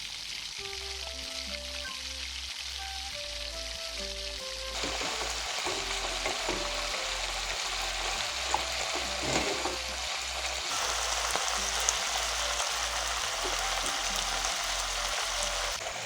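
Broiler chicken pieces for pickle frying and sizzling in a pan as the water cooks off, with steady crackle and intermittent stirring scrapes; a low hum runs underneath at first.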